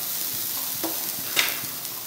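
Fennel seeds drop into hot oil and crackle with a soft sizzle, broken by a few sharp spatters and faint stirring clicks, and nobody speaks.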